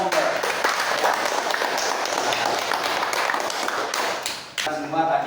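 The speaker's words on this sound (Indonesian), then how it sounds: "tepuk tangan untuk kelompok" Students in a classroom clap for a group, a moderately loud, fairly steady patter of hands that lasts several seconds and briefly thins out near the end before resuming.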